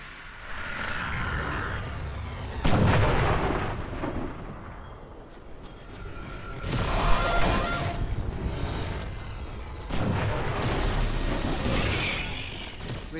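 Incoming weapon fire in the Halo Spartan Strike video game lands as heavy, rumbling booms in three or four broad bursts. Each one swells and fades over a steady low roar.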